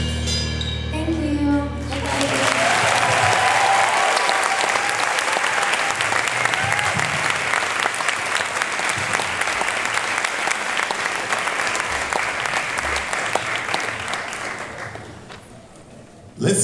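A large audience applauds warmly for a sung performance by a former Nashville School of the Arts student, a thick, steady wash of clapping that swells in quickly, holds for about thirteen seconds, then tapers off.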